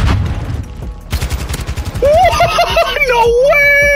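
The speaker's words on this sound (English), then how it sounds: "Oh, I shot him! My bullets went right through this guy!" Rapid bursts of video game gunfire from a Bryson 800 setup crackle loudly at close range, followed by game effects and an excited young voice shouting over the action.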